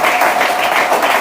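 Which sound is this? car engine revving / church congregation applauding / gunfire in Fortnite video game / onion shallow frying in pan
church congregation applauding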